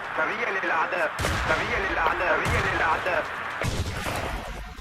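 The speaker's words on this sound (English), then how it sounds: "Norway need to get their heads in the walls so they don't get taken out by these nades." Grenade blasts and gunfire from a competitive Battlefield 2 match roll out in a steady barrage, with heavy booming explosions landing every second or so over continuous battle noise.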